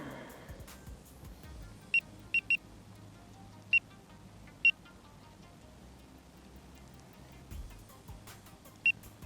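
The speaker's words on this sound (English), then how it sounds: "Now onto the janky alarm setup." An electronic carp fishing bite alarm on a lakeside rod setup gives sharp, isolated beeps, some single and some in quick pairs, spaced irregularly over a steady low outdoor rumble.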